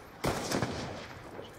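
A video game shooter fires a burst of several sharp gunshots close together, then a fading tail. No one speaks.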